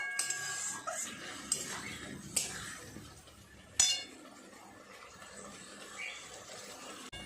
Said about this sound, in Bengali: আর একটু ভালো করে সমস্ত কিছু মিশিয়ে নেব।